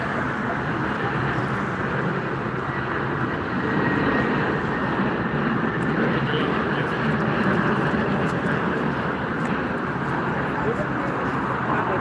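An Airbus A321 airliner landing at Frankfurt Airport, heard as a steady, continuous broadband engine roar that stays loud and even throughout with no pauses.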